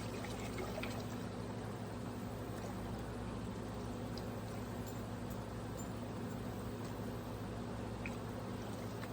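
Water, with vinegar in the mix, poured steadily into a pot for pickling jalapeños, a continuous close liquid rush that runs evenly throughout with no talking.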